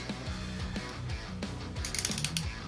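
The ratcheting shoulder joints of a Beast Wars Optimus Primal toy click as the arm turns, producing a quick close run of sharp plastic clicks that ends in a faster burst.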